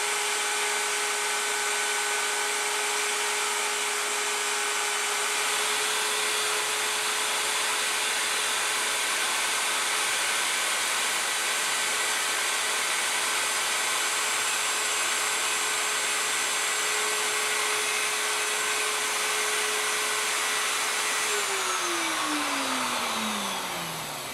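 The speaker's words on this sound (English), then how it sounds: "I can go ahead and start the router, slowly make my plunge, and work my way around" A plunge router cuts the outline of a wood inlay along a template, giving a loud, steady high-pitched whine that holds level for over twenty seconds and then drops in pitch as the motor spins down at the end.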